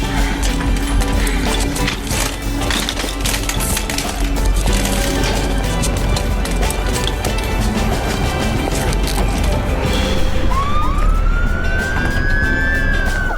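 An ambulance siren wails amid loud traffic and street noise, with rising and falling tones sweeping clearly toward the end over a constant rumbling background.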